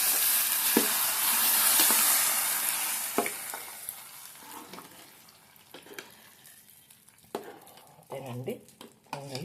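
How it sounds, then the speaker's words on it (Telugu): Pongal being stirred in a cooking pot, with a steady scraping and stirring texture, occasional sharp clinks of a utensil against the pot, and soft background noise, fairly close. "పొంగలి బాగా కలుపుకున్నామండి."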